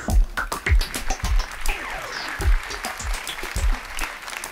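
An audience applauds to welcome guest Jacques Heller onstage at a 2015/2016 season presentation, with sharp, dense clapping swelling and fading in waves that stay loud across the whole stretch, with no talking.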